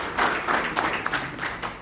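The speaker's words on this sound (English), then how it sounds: "Can you just give a round of applause as he comes forward?" An audience at a youth league panel discussion on sanctions in Zimbabwe gives a brief, fairly faint round of applause, scattered claps pulsing over roughly two seconds.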